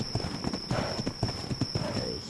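A horse gallops in the video game ARK Ragnarok, its rapid, rhythmic hoof clops thudding steadily throughout at moderate loudness, over a constant high electronic whine, with a faint whinny-like tone near the end.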